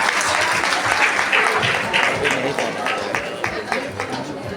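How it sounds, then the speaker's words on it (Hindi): Audience at a school annual function applauding children, sustained loud clapping from a large crowd that fills the room and fades slightly toward the end. "जोरदार तालियां इन बच्चों के लिए।"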